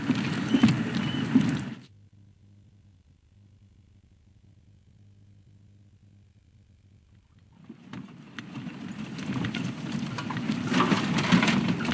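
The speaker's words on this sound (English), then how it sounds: "We've got some water dripping on us as well at the moment. Water being rain, I guess." Rain falling at an outdoor wildlife viewing spot at Djuma, a dense hiss of drops that cuts out abruptly for several seconds, leaving a low hum, then returns and builds steadily.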